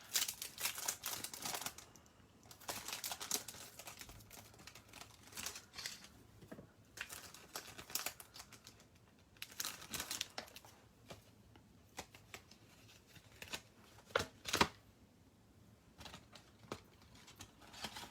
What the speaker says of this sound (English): I'm going to use one of those dies from the ornate frames to cut that out